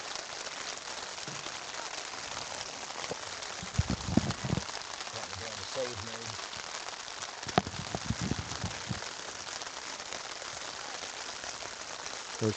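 Steady heavy rain pours down at a high school baseball field at Nelsonville-York, a dense, even hiss of drops that fills the air throughout, with faint voices and a few sharp taps showing up now and then.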